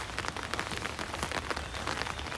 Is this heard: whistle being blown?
no